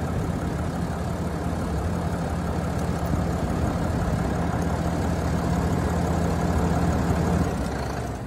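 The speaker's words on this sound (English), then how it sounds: "So I'm going to kill the engine" A 2021 Ram 3500 heavy-duty pickup with a 6.7-liter diesel engine, idling with a steady low rumble that stays constant and close for the whole stretch, alone without talk.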